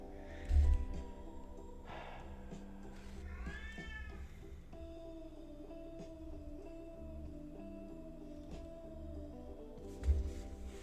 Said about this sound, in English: I don't know if the cat's meowing or singing to this sad guitar